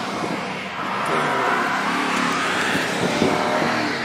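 Car engine straining and revving steadily, stuck in deep snow on a Brooklyn street during a December 2010 blizzard, a continuous broadband roar with no speech over it.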